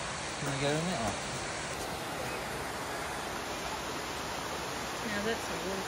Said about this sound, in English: Now that's a waterfall, isn't it?